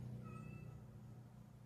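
An indoor cat meows quietly, a couple of short faint calls over a steady low hum with no talking.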